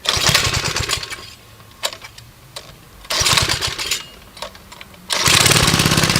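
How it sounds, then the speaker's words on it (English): The small cast-iron four-stroke engine of a 1970 Rupp Roadster 2 minibike putters loudly, revving in bursts and easing back to a rough idle between them, close by. "it's basically a little cast iron, four-stroke motor, there's nothing to it"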